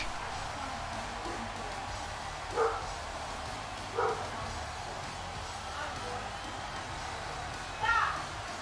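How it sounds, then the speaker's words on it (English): Several dogs barking in short bursts, three distinct barks spaced a few seconds apart, moderately distant over a low steady background hum. "Grandma got the dogs all worked up"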